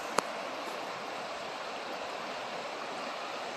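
The Kopka River flowing near a forest campsite clearing, a steady broadband rush of moving water heard from a short distance, even and moderately faint, with one sharp click near the start.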